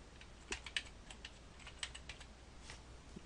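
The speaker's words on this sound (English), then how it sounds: "I'm just going to type right in here." Quiet, close typing on a computer keyboard, with irregular soft key clicks in short bursts and no speech.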